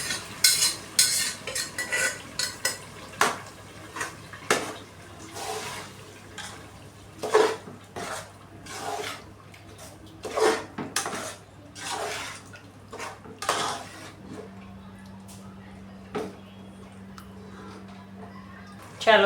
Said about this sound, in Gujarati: ચાલો જો આ ભાજી છે એ આમાં નાખી દઉં છું.